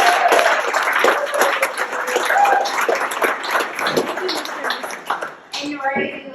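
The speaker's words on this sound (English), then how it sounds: "If you could all just join me in a round of applause." Wedding guests break into a round of applause, a burst of dense clapping that gradually thins out, followed near the end by a few voices.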